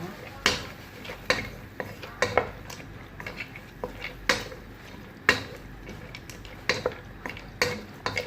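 Soup with evaporated milk is stirred in a pot with a utensil, giving a series of distinct scraping and clinking strokes against the metal at an irregular rhythm, fairly close.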